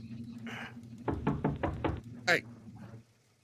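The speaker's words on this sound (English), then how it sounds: "But that would sound exactly like someone knocking, right?" Five quick knocks on a door frame in a tight, even burst, near and fairly sharp, with a person talking before and after over a quiet room.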